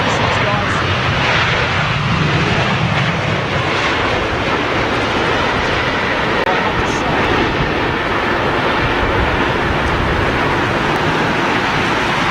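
An airliner arriving at London Heathrow in stormy, windy weather, a loud continuous roar of engines and gusting wind filling the scene, with people talking over it.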